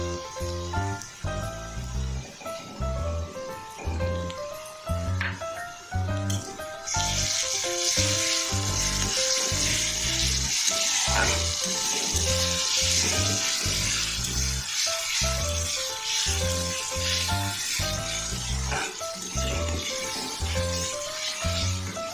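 Onions frying in oil in a pan with ginger-garlic paste, for a fish-head and mung dal dish. A loud, steady sizzle runs throughout and grows denser and brighter partway through.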